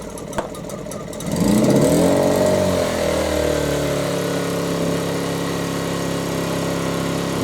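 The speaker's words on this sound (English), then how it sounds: "that's the generator running" A Hyundai HY1000Si portable generator is pulled into life, catching after a short start and settling into a steady, loud running drone that holds close by to the end.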